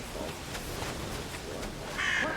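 A crow caws outside in a few harsh calls, a louder one near the end, over steady background noise.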